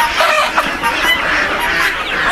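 Desi chickens on a backyard poultry farm in India cluck and squawk continuously, a dense, close flock chatter with overlapping calls.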